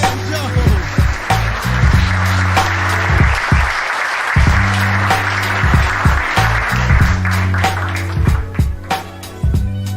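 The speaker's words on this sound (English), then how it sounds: "let's bring him on a round of applause, y'all" Audience applause welcoming a guest onto a talk show, steady clapping layered over loud rhythmic music with a pulsing bass beat.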